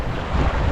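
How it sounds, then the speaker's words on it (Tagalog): Strong wind buffets the microphone at the seashore near a river mouth, a loud, dense rush with no pauses. "Mahangin po mga kadinso."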